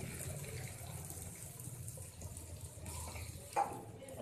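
Water poured into a pan of simmering potato curry (aloo gravy), a soft steady splash and trickle under faint kitchen background, with a brief clatter near the end.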